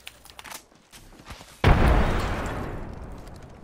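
Frag grenade blast in the battle royale game Apex Legends, a single loud, sudden boom after scattered faint gunfire clicks, followed by a long rumbling decay.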